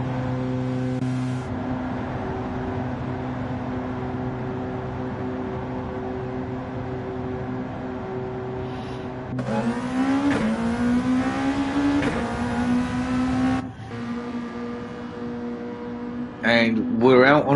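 A Gr.2 race car engine in a racing game at Road Atlanta drones steadily, then rises into a loud rising rev as it pulls out of the pits. Talk continues over it throughout.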